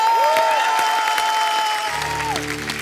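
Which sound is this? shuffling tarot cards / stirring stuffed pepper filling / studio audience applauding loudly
studio audience applauding loudly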